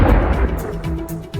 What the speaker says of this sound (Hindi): बेत शेमेश में ये जोरदार धमाका हुआ, जिसकी आवाज भी आप सुन पा रहे हैं।